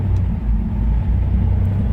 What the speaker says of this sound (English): Car sounds good.